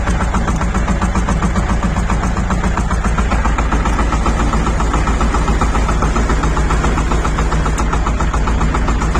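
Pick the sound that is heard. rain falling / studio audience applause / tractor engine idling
tractor engine idling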